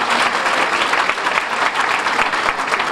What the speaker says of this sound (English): Nice round of applause for both of them, if you would, at this time.